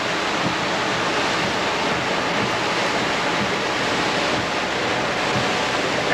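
Continuous loud rush of floodwater cutting trenches through the ground during a November flood in Wuikinuxv, a dense roaring wash with no voices.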